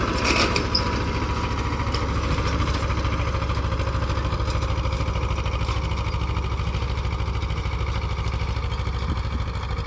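A tractor engine chugs steadily nearby, a low, rhythmic diesel-like thrum with no pauses or voices.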